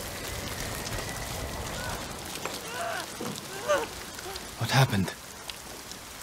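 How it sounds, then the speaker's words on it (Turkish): Steady rain patters on surfaces in the open-world samurai video game Ghost of Tsushima, a soft, continuous hiss behind brief spoken lines from the game's characters. "Bu ne biçim yağmur efekti ya?"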